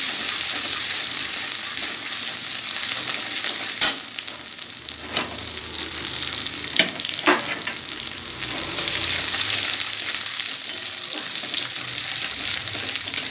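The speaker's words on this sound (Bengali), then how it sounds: "এটা একটু ভাজা ভাজা করে নেব।" Ginger and garlic frying in mustard oil in a kadai, a continuous close sizzle with a few sharp clinks and scrapes of a spoon scattered through it, no talking.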